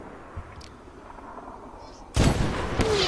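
Gunfire in the Medal of Honor video game: a faint quiet stretch gives way to a sudden loud sharp shot followed by a second crack and lingering echoing noise, close and abrupt.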